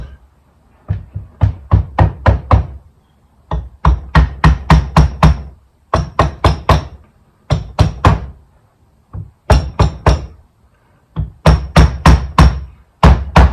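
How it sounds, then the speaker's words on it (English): A hammer taps in quick bursts of five or six close, solid knocks, each run separated by brief pauses, loud and near with no talking. "A little bit of gentle tapping."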